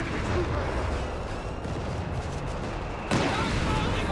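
Artillery barrage in a Company of Heroes 3 match, a dense rumble of distant shelling and explosions with a sharper blast near the end.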